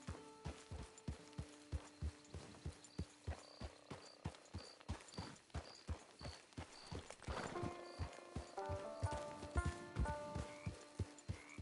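Horse in Red Dead Redemption 2 Online clopping along with a steady, rhythmic run of hoofbeats, close and clear, with game music tones and a brief snort in the background.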